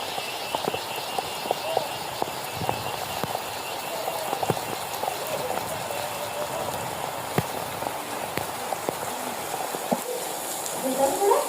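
Steady rain pattering on a surface during a trek, with scattered heavier drips and drops, continuous and close, with no talking.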